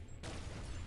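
Fireworks weapon firing in the mobile shooter Pixel Gun 3D, a sudden dense burst of crackling blasts that cuts in after a brief quiet start and holds loud and continuous to the end.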